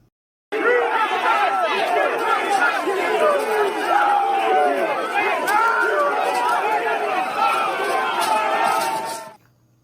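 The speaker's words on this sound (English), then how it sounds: "After the speech, the angry crowd marched up to the Capitol." An angry crowd of rioters marching toward the Capitol fills the air with a dense, loud, continuous roar of shouting and chanting voices, steady for several seconds before cutting off.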